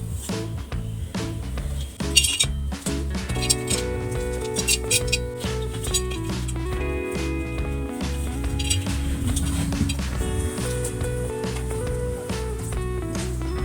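Dry coconut roasts in a heated pan for a garlic chutney, stirred continuously with repeated close metallic clinks and scrapes over ringing, sustained tones.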